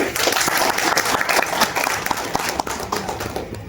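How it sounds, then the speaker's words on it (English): Workshop attendees give dignitaries a loud round of applause, the clapping dense and close with sharp individual claps standing out, tapering slightly toward the end. "Let's have a round of applause for them"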